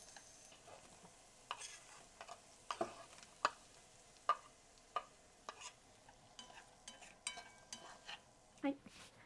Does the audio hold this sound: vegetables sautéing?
yes